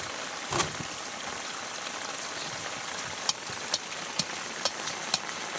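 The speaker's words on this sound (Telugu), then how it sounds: "ఆల్రెడీ ఇక్కడ వర్షం వస్తుంది" Steady rain falling outdoors, a dense, even hiss of drops with a few sharp taps and knocks standing out near the end.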